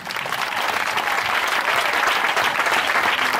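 A church congregation claps loudly and steadily for a few seconds, a dense wash of applause from many hands filling the room.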